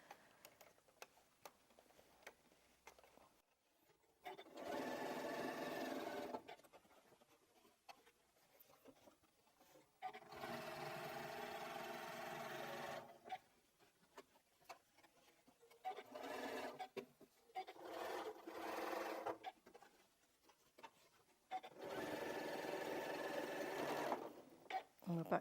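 A sewing machine stitches a quilted strip bag in several bursts of rapid, rhythmic whirring, with quiet clicks and handling noises in the pauses between runs, heard close and fairly faint.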